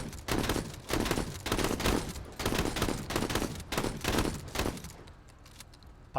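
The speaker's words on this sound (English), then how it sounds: "Could just blind fire at the shrub" Rapid bursts of gunfire in the video game MENACE, blind-fired at a shrub, loud and close, repeating in dense volleys for several seconds before trailing off, with no voices over them.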